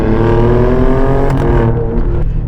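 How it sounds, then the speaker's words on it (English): A 2022 Alfa Romeo Stelvio Quadrifoglio V6 accelerates hard in a loud, continuous engine drone heard from inside the cabin, with a short crackle near the end as the revs drop. "you get this nice pop out of the exhaust when you do that"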